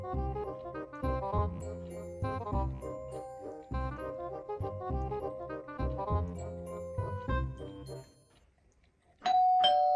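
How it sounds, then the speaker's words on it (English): A melodic tune plays for several seconds, then stops; after a brief quiet gap a doorbell chimes loudly near the end. "startled by the sound of the doorbell"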